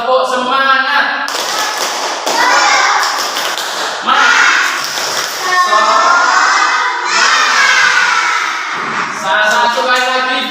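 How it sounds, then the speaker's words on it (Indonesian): A classroom of students performs a loud rhythmic clapping chant together, with sharp clap bursts mixed into energetic group shouting that fills the room continuously. "Diperhatikan aba-abanya. Tepuk semangat."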